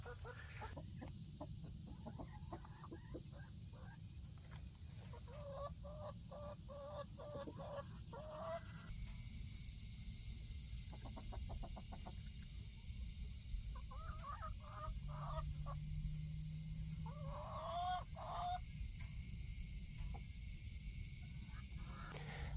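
Farm chickens cluck and call repeatedly at a distance in an outdoor setting, with insect-like buzzing and a steady background hiss, faint throughout.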